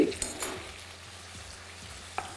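Potato pieces fry quietly in oil in a pan, a faint steady sizzle broken by a couple of small clinks near the start and end.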